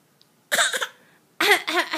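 A little girl gives two sharp, throaty coughs a moment apart, close and loud in a quiet room, seemingly imitating someone else's cough.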